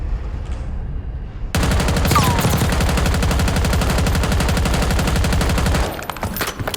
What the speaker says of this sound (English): I'm gonna start shooting.